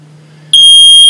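A smoke-style fire alarm in a home suddenly starts shrilling halfway through, a loud, piercing steady tone that cuts in sharply over a low background hum.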